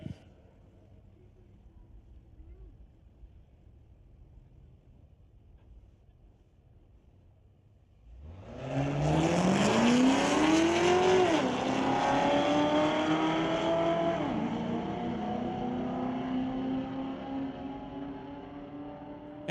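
A 2005 Mustang and a 2008 Corvette launching down a drag strip at a street-legal night, quiet idle ambience then sudden loud engine roar with rising gear-shift sweeps as the cars pull away and fade.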